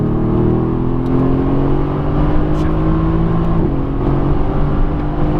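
A 2017 Mercedes-AMG GTS accelerates at full throttle on a race track, a steady, loud engine drone that holds, then shifts pitch partway through, with a faint voice underneath.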